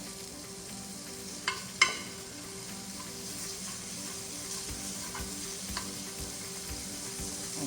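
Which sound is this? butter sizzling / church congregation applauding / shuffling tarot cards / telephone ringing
butter sizzling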